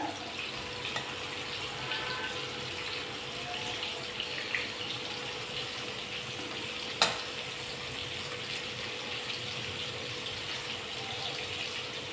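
Fish pieces fry in a pan of oil with a steady, moderate sizzle that runs the whole time, plus one brief sharp knock partway through.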